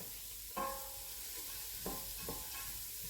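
A spoon stirs a pot of vegetable and shrimp soup made with olive oil, giving three brief, separated scraping knocks over a quiet background hiss.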